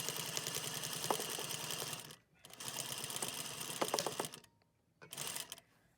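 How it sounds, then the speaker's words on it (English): Sewing machine stitching a quarter-inch seam in fabric face-mask lining: a steady, fast mechanical whirr in two bursts of about two seconds each, then a brief short run, close and moderately quiet. "I'm going to sew a 1/4 inch seam allowance at the center front"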